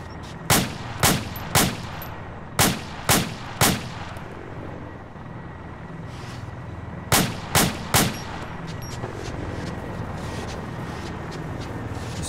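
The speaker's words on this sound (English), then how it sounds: "I'm just shooting near you." Gunfire in a video game: sharp, loud single shots in three quick bursts of three, with a pause between the second and third bursts, over a steady low ambient rumble.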